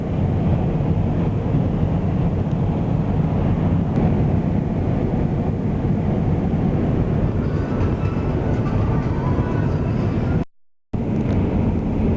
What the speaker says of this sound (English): So here's the road train that we're overtaking.